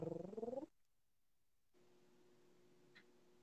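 A person imitates a cat's purr with a short, pulsing, throaty rattle that stops abruptly, followed by silence and then a softer steady low hum, close and quiet.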